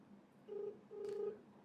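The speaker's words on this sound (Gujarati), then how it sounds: "હવે મારા કલેજા સુમિત ચાવડા એને ફોન કરી" Two steady telephone dialing tones sound over a phone line as a prank call is placed, the first about 0.2 s and the second a longer 0.5 s, separated by a short gap, fairly quiet with no talk.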